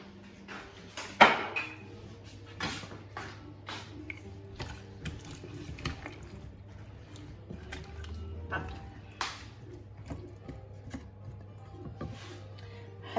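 Turmeric, dried coriander and hot pepper stirred in a pot for Moroccan couscous, a spoon scraping and clinking against the metal in irregular strokes, close and moderately loud, with some talking.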